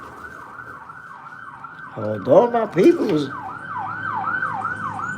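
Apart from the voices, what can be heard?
ambulance siren up the block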